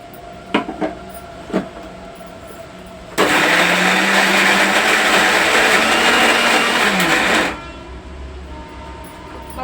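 A mixer grinder blends ginger and garlic into paste, a loud, dense whirring roar that kicks in suddenly after a few soft knocks, runs steadily for about four seconds and then stops.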